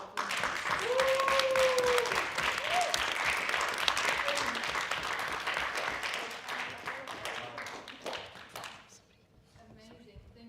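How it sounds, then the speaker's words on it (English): Audience applause closing a panel session at an Asian heritage celebration event, a dense wash of clapping that fades out toward the end, with voices talking over it. "If you can join me in a round of applause for our"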